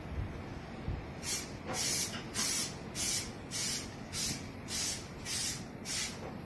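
Spray paint can laying a light coat on a Nissan GTiR car bumper: about eight short, even hissing bursts in a steady rhythm, close and clear with no talk.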